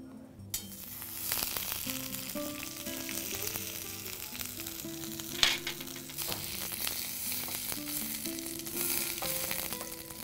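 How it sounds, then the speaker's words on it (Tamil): Butter melting and sizzling in a hot pan, a steady crackling fry heard close up with a brief clatter partway through, over some background music. "இப்போ வாணலி சூடாயிருச்சு, இதில் கொஞ்சம் வெண்ணெய் போட்டுக்கோங்க."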